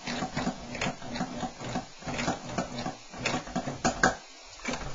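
A coverstitch machine runs in short, rhythmic bursts, stitching over earlier stitches while sewing elastic into a garment waistband, with brief pauses between runs.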